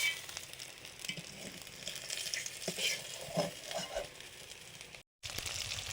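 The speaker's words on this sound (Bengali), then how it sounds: "মাছগুলো ভাজা হয়ে গেছে তুলে নিচ্ছি" Bash pata fish fry quietly in a pan, a faint crackling sizzle with soft scraping as the pieces are lifted out, brief cut near the end, no talk.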